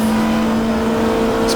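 A Vauxhall Vectra super touring race car in the GTR2 racing game holds a sustained high engine whine at steady revs, loud and close, with no voices over it.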